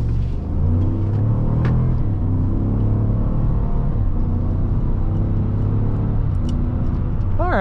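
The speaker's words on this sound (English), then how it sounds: "let's pop this into sport mode right here, and we will do a nice little pull" 2019 Cadillac Escalade SUV, 420 horsepower, accelerating hard in sport mode on a snowy night drive: a loud, continuous deep engine rumble and roar heard from inside the cabin, building steadily over several seconds.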